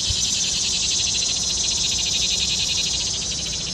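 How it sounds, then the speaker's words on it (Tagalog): Many crickets chirping in a backyard vegetable garden where chocolate peppers grow, a dense, shrill, continuous trilling chorus close by and fairly loud, with no talking over it. "Daming kuliglig."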